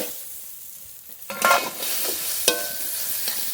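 Quiet pan hiss, then a sudden loud sizzle as prawns hit hot oil with sautéed taro stolons, followed by steady frying with a few clinks and stirs.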